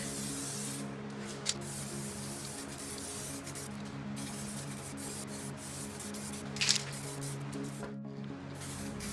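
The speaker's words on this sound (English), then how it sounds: "These cans have an adjustable nozzle to rotate the spray pattern 90 degrees" Continuous hissing spray from an aerosol paint can painting an engine bay, steady and fairly loud, with a couple of brief taps and pauses, no voices.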